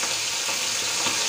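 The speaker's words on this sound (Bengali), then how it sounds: "এখানে মাছটা ভাজা হোক" Hilsa fish pieces frying in oil, a close continuous crackling sizzle with small spitting pops, loud and unbroken, no voices.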